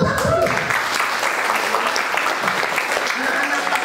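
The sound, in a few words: audience applause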